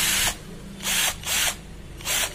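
A 12V DC cordless drill runs in short bursts, three loud whirring spins separated by brief pauses, close and clear with no talk.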